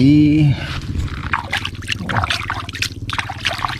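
Water trickles and splashes steadily through rice paddy fields in the evening, with a brief tonal hum at the start and faint movement sounds throughout.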